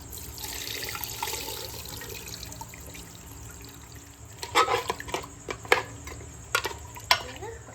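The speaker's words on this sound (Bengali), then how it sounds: "এবারে জলটা আমি দিয়ে দেবো এর ভেতরে" Hot water poured into a cooking pot starts as a soft, steady rushing wash, then turns into louder splashing bursts and sloshes in the second half.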